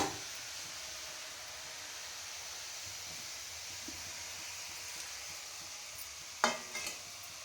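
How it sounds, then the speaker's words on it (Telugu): Tomato pieces fry in oil for tomato chutney, giving a steady, soft sizzling hiss with a brief clatter near the end. "ముక్కలు వేసుకొని 2 వాయిలు వేయించుకుంటూ పోయిద్దామండి"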